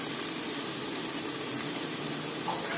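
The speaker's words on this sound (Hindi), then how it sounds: "इसको हम लोग इसमें पानी डालेंगे," Water poured into a pan of mushroom curry seasoned with masala and turmeric gives a steady, even wash of liquid noise that lasts the whole moment with no talking.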